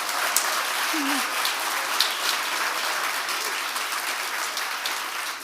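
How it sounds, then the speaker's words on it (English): Sustained applause from an audience at a Tulane football press conference introducing Will Hall as new head coach, a steady dense wash of clapping throughout with a brief faint voice. "A round of applause, yeah"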